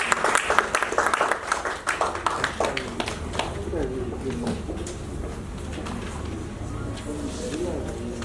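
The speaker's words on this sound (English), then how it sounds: "A round of applause, please." Audience applause at a pension desk officers training event in Lagos, fairly loud, with dense clapping at the start that thins into a lingering patter over about eight seconds; voices murmur through it.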